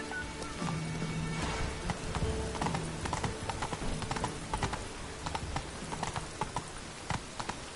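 Roach the horse galloping in The Witcher 3, a rapid run of clip-clop hoofbeats that carries through most of the clip, fairly near and moderately loud, with a faint clattering underneath.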